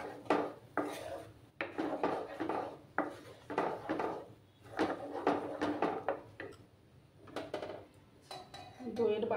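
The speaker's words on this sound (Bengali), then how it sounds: "এবার নাড়াচাড়া করব আমি।" Yogurt is stirred into hot oil in a pan over low heat for an eggplant dish, giving repeated scraping and knocking of a utensil against the pan in an irregular rhythm, fairly close and moderately quiet.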